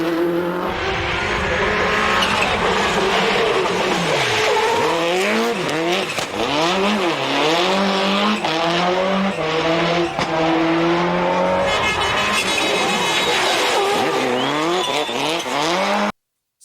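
1990s Subaru Impreza WRX STI rally car with unequal-length headers, loud and close in a World Rally Championship setting. The engine has a throbbing, uneven burble, and its rev swings rise and fall repeatedly as it accelerates and lifts.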